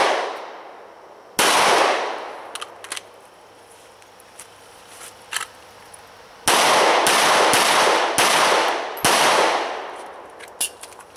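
Several loud gunshots from a Walther PPQ M2 9mm pistol at an outdoor range with a steel plate target at 25 yards, sharp reports spaced irregularly, each followed by a long ringing decay, with no talking.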